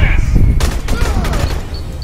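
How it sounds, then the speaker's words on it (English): An explosion bursts suddenly in the shooter Aliens Colonial Marines amid close gunfire, a sharp loud blast followed by crackling debris and shots, with a voice in the background. "Whoa, that exploded!"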